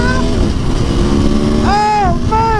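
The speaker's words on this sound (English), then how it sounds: "That power, that pull, that V4 sound!" A V4 cruiser motorcycle engine runs loud and close, with a deep steady drone and rising rev sweeps near the end, while a voice exclaims over it.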